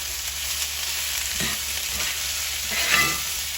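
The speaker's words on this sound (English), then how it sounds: "that's sizzle" Food sizzling and crackling in a hot pan while being stirred, steady frying hiss with occasional scraping movements.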